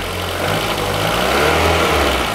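A Renault Twingo engine hums steadily, then revs up via its cable-operated throttle and settles back, a continuous close mechanical drone with no talking.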